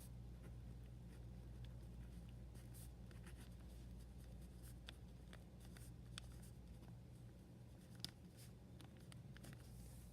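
A pen writes in a notebook, its faint, continuous scratching and light taps steady throughout against quiet room hiss, with no voices.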